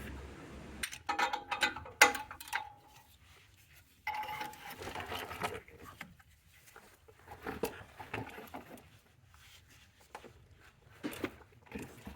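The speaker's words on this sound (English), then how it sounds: "now be able to get our ratchet on it, and then be able to get that to hopefully come off" A ratchet clicks in irregular bursts while loosening an oxygen sensor on a Chrysler 300, with quiet metallic taps and pauses between turns, close and fairly faint.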